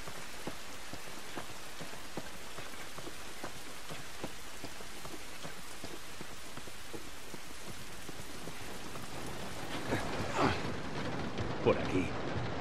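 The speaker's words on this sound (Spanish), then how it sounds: "Esta lluvia no nos va a ayudar." Steady rain falls outdoors in The Last of Us video game, a dense, even hiss of drops on surfaces with scattered sharper taps, continuing throughout, and a few louder clatters and a voice toward the end.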